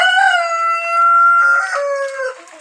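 A rooster crows loudly and close by, one long drawn-out call that breaks into a strained, wavering finish.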